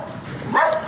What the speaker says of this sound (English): this dog keep barking